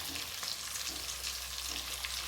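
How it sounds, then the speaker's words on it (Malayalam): Fish and curry leaves fry in hot oil, a continuous crackling sizzle with bright spitting pops, steady and close with no voices. "ഇതിലേക്ക് ഞാൻ കുറച്ച് കരിവേപ്പില കൂടി ഇട്ട് കൊടുക്കണം."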